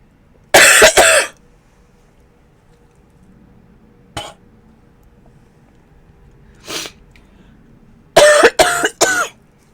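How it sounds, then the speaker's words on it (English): A person has a coughing fit: several harsh coughs in a close cluster, then two isolated coughs after pauses, and a final quick series of three or four coughs, all loud and near against a quiet room. "I had a little bit of a coughing fit there"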